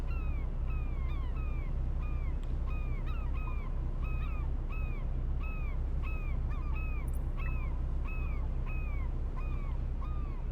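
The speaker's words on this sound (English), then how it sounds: "I hear the gulls. Yep, there's the gulls." Gulls call repeatedly over steady ocean ambience in the video game Fishing Planet, with a rhythmic series of mewing cries rising and falling at regular intervals, clear and fairly close over a constant low rumble of wind and water.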